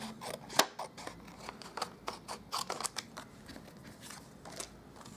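Scissors fussy-cut cardstock for a handmade Stampin' Up thank-you card, giving a series of close, crisp snips at an irregular pace, some louder than others, with no talking.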